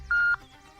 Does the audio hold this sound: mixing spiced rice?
no